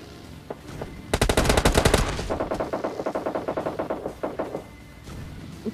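Rapid Mini14 rifle fire sprayed in PUBG Lite, a loud fast burst of shots followed by a longer run of quicker, quieter rhythmic gunfire that fades out.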